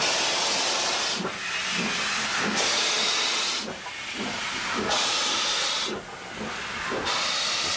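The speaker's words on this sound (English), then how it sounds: "Malakwal is home to these delightfully Edwardian four-coupled locomotives," An Edwardian four-coupled SPS class steam locomotive at Malakwal, Pakistan, hisses in repeated strong bursts of steam, roughly every second or so, with low chuffing beneath and no talk.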